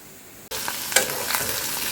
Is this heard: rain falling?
no